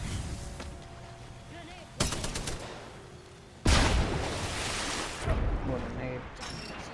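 Grenade explosions and gunfire in Apex Legends, several sudden loud blasts spaced a couple of seconds apart with rumbling tails, while players talk over the action.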